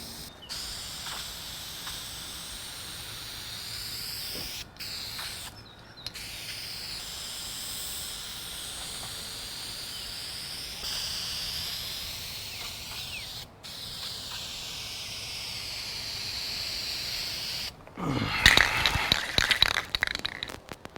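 An aerosol can sprays primer onto a car body in long steady hissing bursts separated by short gaps. A rattling, clattering burst near the end sounds like the can being shaken.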